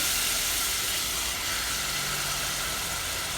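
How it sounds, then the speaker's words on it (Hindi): Steady, bright hiss of yogurt sizzling in hot spiced masala in a pan, a continuous even frying sound with no talk over it. "दही ऐड कर रहे हैं"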